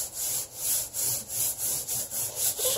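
Tile grout is scrubbed by hand with floor cleaner, giving a rhythmic back-and-forth rubbing with about nine even strokes, close and moderately loud.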